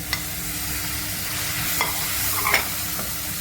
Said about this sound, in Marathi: यामध्ये टॉमॅटोसुद्धा परतवून घेते आहे